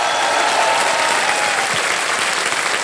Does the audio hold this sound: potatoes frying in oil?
no